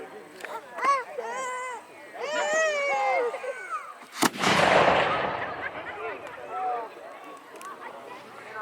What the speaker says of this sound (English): So 3-pound cannons, oh, looks like they're about to fire again.